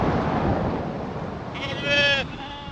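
Sheep and lambs bleating as they are run through a race on a farm during weaning, with a loud, wavering bleat rising over rattling and low background noise, nearby.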